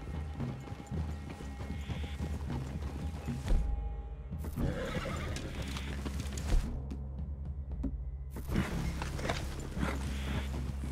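Horses whinny and neigh several times in Red Dead Redemption 2 over a busy backdrop of hooves and movement, with a few sharp thuds in between.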